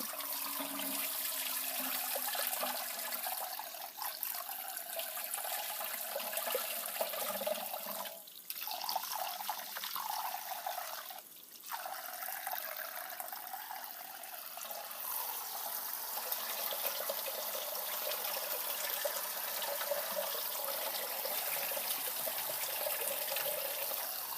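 Running water splashes steadily into a bowl as rice is rinsed under the tap for Mexican rice, a continuous near hiss with a couple of brief interruptions partway through.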